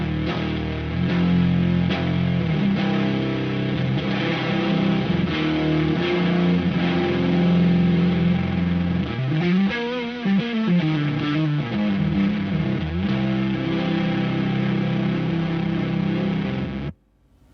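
Fuzz guitar through a Remain Calm fuzz pedal on a MOD Dwarf processor: thick, saturated distorted chords and riffs played steadily for about seventeen seconds, loud and alone with no talking, ending abruptly.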